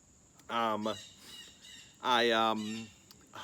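Two loud, harmonic bird calls ring out close by outdoors, each lasting about half a second, separated by a short quiet stretch.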